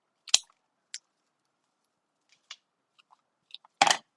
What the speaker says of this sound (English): trim everything back